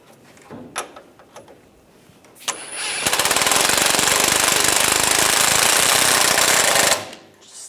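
Impact wrench tightening a front lower control arm bolt on a 2011-2018 Ram 1500: a few faint clicks, then about four seconds of loud, continuous rapid hammering rattle that cuts off abruptly.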